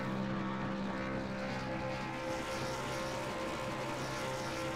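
Helicopter over a racetrack during a stock car race, a steady loud droning rotor and engine roar sustained without break, no talk.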